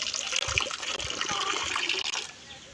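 Water poured out for pigeons, a steady splashing gush running for about two seconds and then stopping, with short thuds and knocks underneath and no talk.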